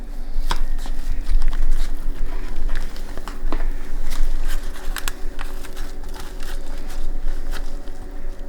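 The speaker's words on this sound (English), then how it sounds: "I'm cutting up my pinwheels" A knife slices through rolled spicy Italian sausage and cheese pinwheels on a cutting board, giving a series of soft, irregular cuts and taps close by, with light kitchen background noise and no talk.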